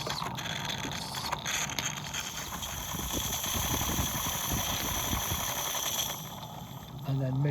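A live-steam model locomotive, Loch Crinan, runs in reverse with the regulator wide open, giving a dense, continuous hiss and mechanical clatter with occasional clicks, fairly close and steady throughout.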